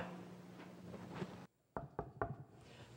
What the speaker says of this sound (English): The knock on wood three times technique never fails to catch the attention of any student.